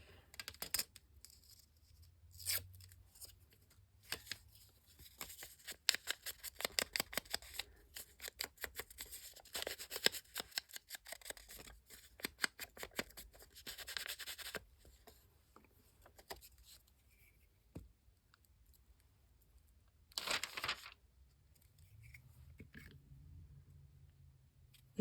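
Scissors snip through paper in a quiet room, a run of dense, crisp cuts close by, with a few isolated snips before and after.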